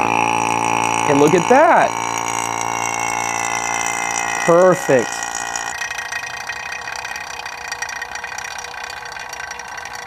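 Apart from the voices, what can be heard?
vacuum pump evacuating moisture and gases from line set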